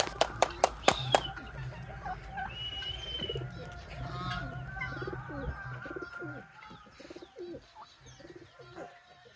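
Racing pigeons coo repeatedly at close range, with a few sharp claps at the start and soft chirps mixed in. A voice speaks briefly.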